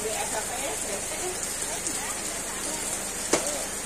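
Steady rain hisses down continuously in a quiet hillside village, a dense even patter with no break, while voices talk faintly nearby and a single sharp knock sounds near the end.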